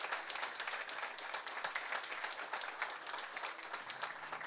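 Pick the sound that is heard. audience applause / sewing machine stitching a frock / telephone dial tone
audience applause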